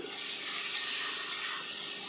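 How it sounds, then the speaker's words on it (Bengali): Potatoes fry in a pan with a little turmeric, giving a steady, close sizzling hiss throughout with no talking. "আলুগুলোকে একটু ভেজে নেব"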